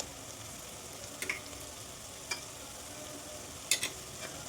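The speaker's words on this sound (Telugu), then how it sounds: "అల్లం వెల్లుల్లి పేస్ట్ పచ్చివాసన పోయే వరకు వేయించుకోవాలి" Ginger garlic paste fries in a pan with onions and softened tomatoes for a dhaba-style chicken curry, giving a faint, steady sizzle broken by a few brief spoon scrapes and clinks.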